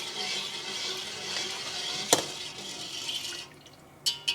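A whisk swirls cloudy sugar brine for bread and butter pickles in a pot on the heat, a soft continuous sloshing with a sharp metal clink midway and two more taps at the end.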